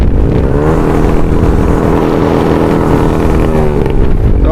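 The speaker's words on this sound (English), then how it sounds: "ইয়াতে মানুহৰ একো নাই, সেইকাৰণে ইয়াতে অকণ RPM দি দিওঁ গাইছ ন।" A Hero Yamaha Fazer motorcycle engine revs up close, a loud, steady roar whose pitch rises and falls with throttle blips near the start and end.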